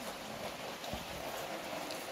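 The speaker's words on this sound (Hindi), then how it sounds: "हल्की हल्की बूंदें पड़ रही हैं" Light rain falls steadily in a continuous soft hiss with faint patters, outdoors on a cool, breezy day, no voices present.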